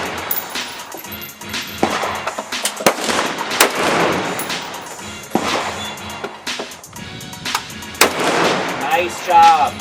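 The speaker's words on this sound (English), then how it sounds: "He's shooting a little bit to your right." Gunfire at an outdoor shooting range, repeated sharp shots at irregular intervals, some loud and close, others farther off, with indistinct voices and range noise between them.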